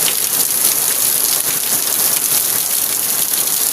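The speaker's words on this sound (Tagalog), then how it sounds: "lakas ng buhos ng ulan" Heavy rain pours steadily at night in a dense, unbroken hiss, loud and close, with no pauses.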